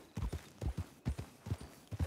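Horse hooves clip-clop in a steady, even rhythm in the roleplay game El Rancho RP, each pair of quiet, close hoofbeats repeating at a walking pace.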